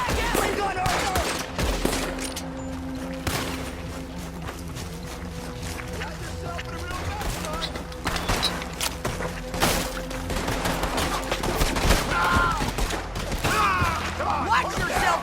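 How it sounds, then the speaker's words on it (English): Gatling gun fire in the video game Red Dead Redemption 2, dense rattling bursts of shots over a loud battle with shouting voices and steady mechanical clatter. "Get on that Gatling gun, Arthur!"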